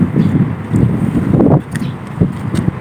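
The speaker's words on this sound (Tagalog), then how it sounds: "Mahangin dito eh. Lalo paggabi." Wind rumbles and gusts across the microphone beside a small catfish pond, a steady low roar with a few stronger buffets.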